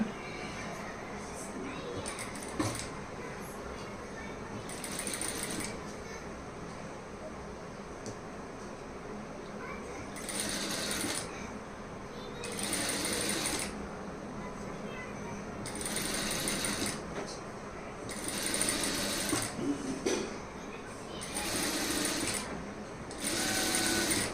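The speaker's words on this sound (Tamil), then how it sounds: "அதுலேருந்து கரெக்டாக தைக்க ஆரம்பிச்சிடலாம்" Aari embroidery needle stitching through fabric, a repeated soft pulling and punching sound coming in bursts under faint background noise and occasional talk.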